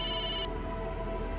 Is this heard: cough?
no